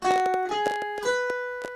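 A short run of single plucked guitar notes playing a scale with a note missed out, spaced unevenly with small jumps between pitches, played close and clear without any voice.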